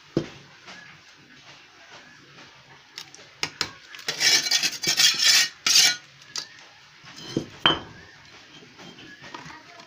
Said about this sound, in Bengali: আমি আরেকটি হাতে ইট নিয়ে ওই খালি স্থানটিকে ভরাট করে দিচ্ছি।